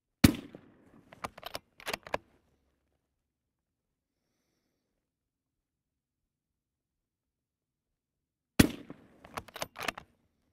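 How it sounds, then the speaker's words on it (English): Long-range rifle firing a three-round group at a shooting range: sharp close reports with rattling echoes, one cluster at the start and another after a long silence. "we just shot a three-round group"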